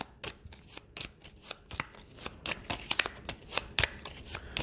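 Cards for the Pathfinder Adventure Card Game are shuffled by hand in a quick run of crisp riffling snaps and slaps, close and fairly quiet, with no talking.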